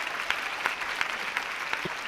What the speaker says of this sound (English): The sound of this applause